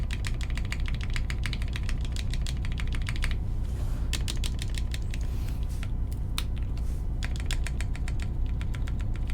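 Typing on a Jane V2 CE mechanical keyboard fitted with GMK Vaporwave keycaps, a fast, even stream of crisp clacks up close, pausing briefly and then resuming in quick runs over a low background hum.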